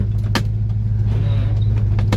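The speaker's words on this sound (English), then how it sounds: "Hit our wipers here." Electric windshield wipers run on a 1967 Chevy II Nova SS, a soft motorized whir with faint rhythmic sweeps over the steady low hum of the idling engine.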